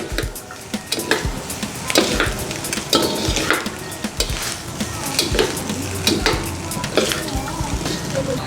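Chilli powder mixture stirred and fried in a pan, with a steady close sizzle broken by repeated scraping strokes of a utensil against the pan.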